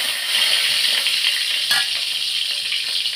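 Small sambar onions frying in hot oil in a pan, a dense continuous sizzle close up with a brief stirring scrape partway through, no voices.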